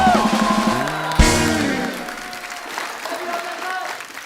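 Studio audience applause breaks out on a Kapil Sharma Show comedy set, a steady clapping wash under a host's voice and lively music that gradually settles.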